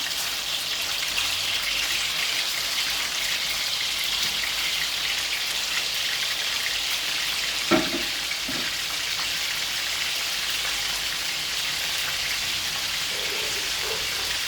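Marinated pork pieces deep-frying in hot oil, a steady dense sizzle and crackle throughout with a brief louder pop near the middle.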